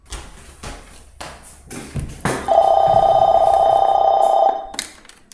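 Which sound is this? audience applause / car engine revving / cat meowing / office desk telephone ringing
office desk telephone ringing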